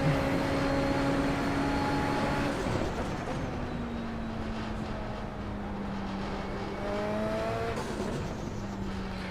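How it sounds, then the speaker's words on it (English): Formula race car in iRacing on the Silverstone circuit, its engine wailing through rising upshifted pitches with sharp gear changes and brief dips, steady and close-miked throughout, mixed with faint tyre noise. "Love the sound of this car."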